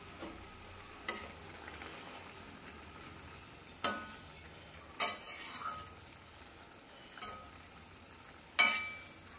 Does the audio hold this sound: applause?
no